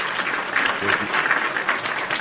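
A round of applause on a live wrestling talk show, dense steady clapping from a small group throughout, with a voice briefly heard over it.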